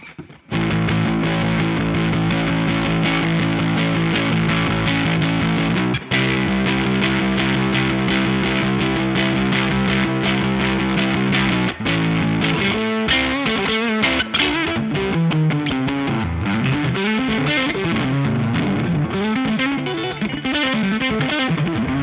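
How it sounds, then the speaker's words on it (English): A continuous overdriven electric guitar through a saggy, touch-sensitive drive pedal, sustained gritty chords giving way to busier riffing and bends, loud and unaccompanied, no talking. "saggy, very touch-sensitive drive pedal"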